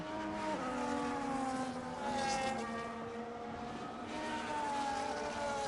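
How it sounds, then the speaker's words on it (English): A race car in a sim racing video game approaches on the Miami circuit, its engine note climbing and sliding through gear changes in steady harmonic whines. It stays moderately loud and continuous with no talk. "Car's just approaching."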